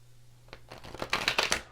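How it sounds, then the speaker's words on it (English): A deck of tarot cards being shuffled by hand, a quiet start followed by a quickening run of crisp riffling slaps and flutters that grow louder toward the end, close to the listener. "One more shuffle."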